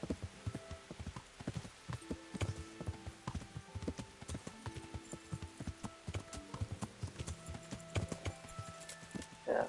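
Horse hooves clip-clopping at a steady walking rhythm in the video game Kingdom Come: Deliverance, close and clear, with a short snort or whinny at the very end.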